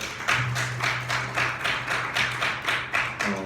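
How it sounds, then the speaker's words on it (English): A church audience gives a round of applause, heard as a sparse, rhythmic series of claps, fairly even and moderately close, with no talking over it. "let's give them a round of applause as well"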